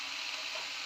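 Tender vegetable pods frying in a pan: a brief, steady, close sizzling hiss with no break.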